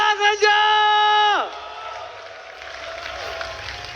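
Esports arena crowd at a Mobile Legends match: a long drawn-out shouted call over the audience, then broad cheering and applause from the crowd filling the hall.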